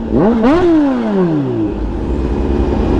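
A loud supercharged 2021 Kawasaki Z H2 motorcycle engine revs up with a rising whistling whine, then the pitch sweeps down as it eases off, leaving a rough idle rumble.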